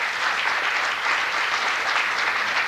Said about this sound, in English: And then just another big applause for all of these participants during the day.